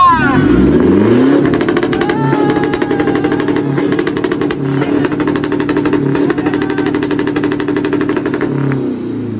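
A lowered, street-tuned manual pickup truck with a fabricated muffler revs hard close by, its exhaust crackling and popping in rapid bursts between throttle blips, while people talk nearby.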